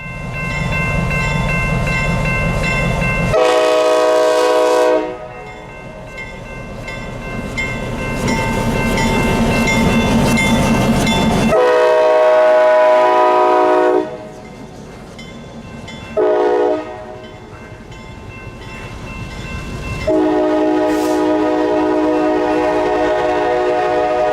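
A CSX freight train passes nearby, its loud horn sounding in several long blasts with gaps between them, over the rumble and rattle of the moving cars.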